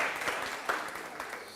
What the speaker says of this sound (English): Let's give it a clap there, guys.